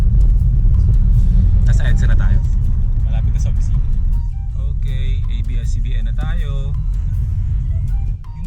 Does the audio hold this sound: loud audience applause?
no